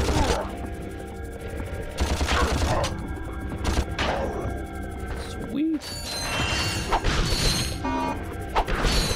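Metallic whacks and clanks of a wrench smashing things in the Ratchet and Clank game, several sharp hits scattered among busy game effects, with a voice talking over them.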